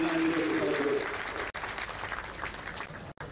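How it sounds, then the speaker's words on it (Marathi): A crowd at the Maha Pashudhan Expo 2019 livestock fair applauds Chief Minister Devendra Fadnavis. Steady, dense clapping fills about three seconds, with voices over the start. "सन्माननीय देवेंद्रजी फडणवीस साहेबांसाठी जोरदार टाळ्या वाजवून"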